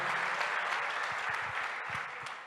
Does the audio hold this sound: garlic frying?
no